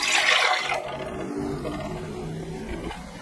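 Milk poured into a cooking pan to be boiled with cinnamon sticks and lemon zest for pastry cream, a loud rushing liquid pour at first that settles into a softer steady wash.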